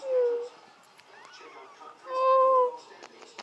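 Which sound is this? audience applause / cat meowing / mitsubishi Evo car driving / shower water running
cat meowing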